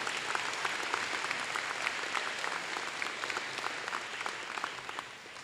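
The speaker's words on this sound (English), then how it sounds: "let's clap for our friends from the Grand Rapids Community Foundation" An audience claps steadily for guests from the Grand Rapids Community Foundation at a Harrison Park Challenge Scholars program, a dense, even wash of hand claps lasting throughout and tapering slightly at the end.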